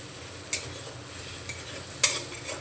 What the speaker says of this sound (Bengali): গ্যাসের ফ্লেমটা লোতে রেখে মশলাটা আর একটু আমি কষিয়ে নেব